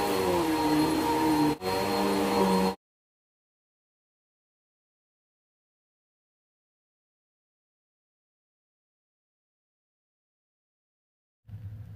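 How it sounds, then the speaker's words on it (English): A vacuum cleaner whines up close for a few seconds before cutting off abruptly into silence; a faint low rumble returns at the very end. "Boy, I got a vacuum."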